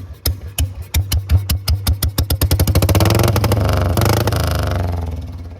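A Bullet motorcycle fitted with a tractor silencer exhaust thumps loudly up close, its slow separate beats quickening into a continuous roaring rev that holds and then eases slightly, with no talking.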